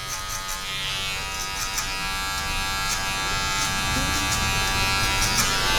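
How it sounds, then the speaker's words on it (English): Electric hair clipper buzzing steadily while cutting a fade haircut with a shaved design, a close, continuous motor hum with small shifts in pitch as the blade moves through the hair. "Slowly close the clipper, just get these little dark areas out."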